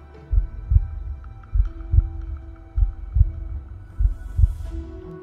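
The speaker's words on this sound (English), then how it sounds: "That pounding of the heart is the sound of resolve." A heartbeat sound effect thumps out four deep lub-dub pairs at a steady, slightly quick pace, loud and close over a low hum, with no voices.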